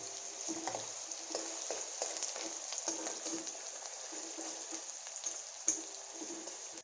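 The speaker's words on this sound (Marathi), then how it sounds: "कढीपत्ता टाकल्यानंतर चिरलेला कांदा, हा कांदा लालसर होईपर्यंत भाजून घ्यायचा आहे" Chopped onion frying in a pan after curry leaves for Satara-style matki misal, a steady close sizzle with occasional crackles and stirring scrapes, no talk.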